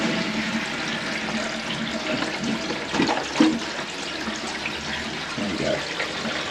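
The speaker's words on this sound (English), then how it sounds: "So let's give it another flush." A toilet flushes during a plumbing repair, with steady rushing and gurgling water throughout and faint voices mixed in.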